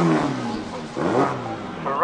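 C20XE turbo Mk1 Ford Escort engine on a drag run, a harsh, ferocious roar that rises and falls in pitch as it revs, loud and close for a couple of seconds.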